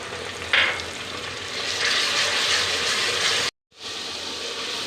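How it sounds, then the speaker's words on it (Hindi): A steady, close sizzle of garlic and ginger paste frying with browned onions in a pan, with a short sharp hiss near the start and a brief drop to silence. "अब इसमें हम लहसुन और अदरक का पेस्ट डालेंगे"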